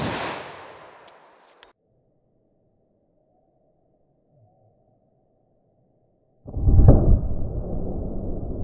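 A single sharp report from a .327 Federal Magnum short-barrel revolver firing 85 grain jacketed soft point ammunition rings out and decays, followed by a long quiet stretch and then a loud burst of noise near the end.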